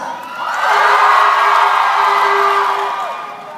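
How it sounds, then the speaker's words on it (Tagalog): A large arena crowd at a live show in Honolulu breaks into sustained clapping and loud cheering with whoops, swelling quickly and holding strong before easing off near the end. "Sa bandang ito, magpalakpakan at may kasamang hiyaw"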